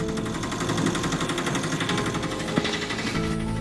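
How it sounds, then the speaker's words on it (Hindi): A cartoon auto-rickshaw engine chugs with a rapid, rattling putter, steady and fairly close, with one sharp clunk partway through. "तभी इन लोगों को ऑटो की आवाज सुनाई देती है"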